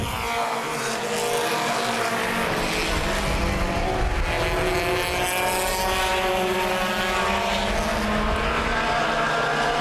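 Mini stock and front-wheel-drive compact race cars on a dirt speedway, a loud continuous roar of several engines revving hard, one pass swelling over the steady crowded din.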